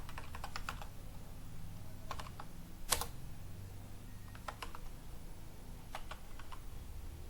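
Light keystrokes on a computer keyboard while entering a Python command, coming in short separate bursts with one sharper click partway through, close and quiet with no voices.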